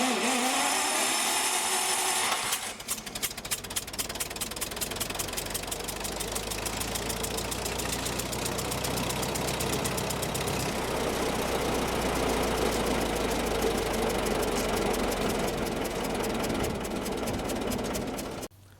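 A Bandit Model 90 wood chipper's engine cranks briefly, then catches and runs steadily with a loud, even mechanical rumble and rapid knocking pulses, continuing for about fifteen seconds before cutting off abruptly.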